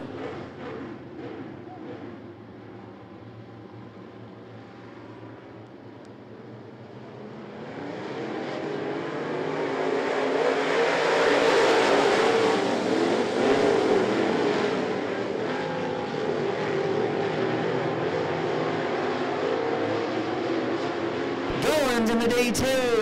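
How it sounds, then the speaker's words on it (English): Race cars roaring around I-75 Raceway as the field takes the green flag, engines droning in the distance then swelling to a loud pass before easing back, with an announcer talking over the noise. "Goins and Doss leading the field out of four to Green Flag Racing."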